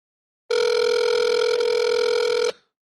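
A telephone ring on an outgoing call sounds as a single loud, steady electronic tone lasting about two seconds, preceded and followed by silence.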